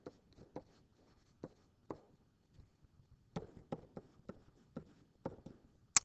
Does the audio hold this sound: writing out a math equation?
yes